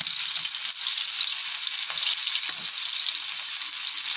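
Fish fries in a pan after being flipped, Tamil-style meen varuval coated in masala, with a steady, close, crackling sizzle that carries on throughout.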